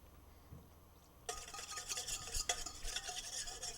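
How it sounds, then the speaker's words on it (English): Apple cider vinegar is whisked in a bowl, a quiet start giving way to brisk, rapid whisk strokes scraping and rattling close by for the last couple of seconds. "Just whisk that in."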